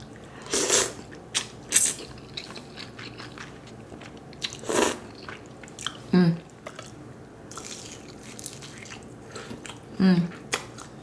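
Close mouth sounds of someone biting into and chewing birria served with melted cheese at a mukbang, with several distinct crunchy bite bursts spaced across the clip and quieter chewing in between.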